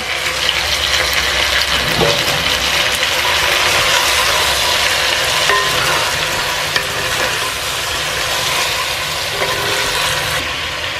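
Crab dropped into a clay pot over softened onions, giving a loud, steady sizzle and bubbling hiss that fills the whole stretch, close and continuous with no talking.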